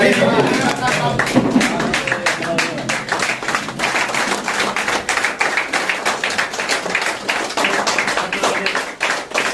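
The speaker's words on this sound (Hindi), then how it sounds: "खड़े होकर ताली बजाइए।" At a training programme award moment, an audience stands and claps in a brisk, uneven patter of many hands lasting several seconds, fairly close, with a voice briefly audible at the start.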